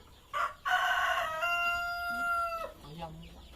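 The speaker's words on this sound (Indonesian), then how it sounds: "ayam" Free-range village chickens in a converted cow shed, with a rooster crowing one loud drawn-out cock-a-doodle-doo up close, followed by a few softer clucks.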